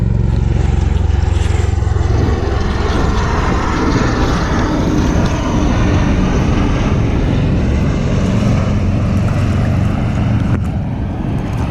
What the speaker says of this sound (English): Had to take a picture of this helicopter coming in. I think it's one of the Ospreys.